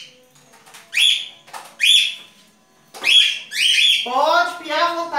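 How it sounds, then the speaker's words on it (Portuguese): A pet bird chirps loudly and close by in a home, repeating bright, sharp whistled calls in short bursts with brief pauses, ending in a longer rippling warble. "Pode piar à vontade."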